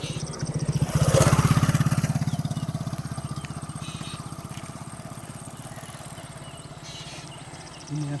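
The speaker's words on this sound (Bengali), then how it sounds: "একটা বাইক চলে গেল" A motorcycle rides past nearby. Its engine swells loud as it draws close, then settles into a steady, throbbing putter that fades only slightly over several seconds.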